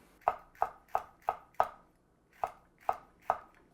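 A knife chops green onion and red fresno chili on a cutting board: eight crisp, evenly spaced chops, nearby and distinct, with a short pause before the last three.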